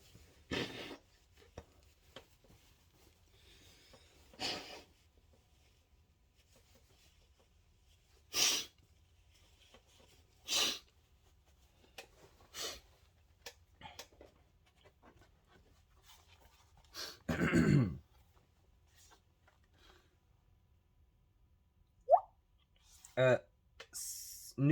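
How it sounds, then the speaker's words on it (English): A person blows their nose in a quiet room: short, isolated breathy bursts spread apart, with one longer, louder honking blow in the middle, faint background hiss between them. "gonna blow my nose real quick"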